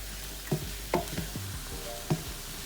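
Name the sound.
shrimp and vegetables frying in a pan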